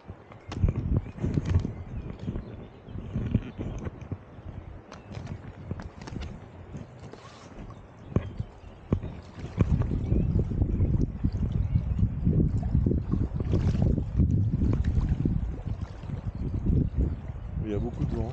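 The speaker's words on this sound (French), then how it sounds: "Il y a beaucoup de vent." Strong outdoor wind buffeting the microphone in heavy low rumbling gusts that grow louder in the second half, with someone speaking intermittently over it.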